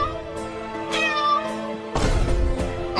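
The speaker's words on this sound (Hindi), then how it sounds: "अरे ये तो वही बिल्ली है जो हमें पहले काटने के लिए आया था और चिंटुआ ने बंदूक से भगा दिया था इसे।" A cat meows close by in a short cartoon story, with a drawn-out tonal meow followed by a harsher noisy burst, fairly loud against a quiet background.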